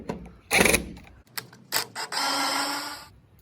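A cordless drill with a Phillips head bit backs out screws, giving a few short buzzing whirs separated by clicks and handling noises, ending in a longer steady drill whine, close and fairly quiet.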